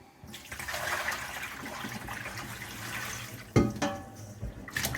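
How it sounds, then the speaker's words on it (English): Hot water poured out of a warmed baking pan into a sink, a steady splashing gush running for several seconds, then a sharper clatter and a few trailing splashes, close and moderately loud. "I put hot water in my pan to kind of get it warm. And so I'm going to empty that out."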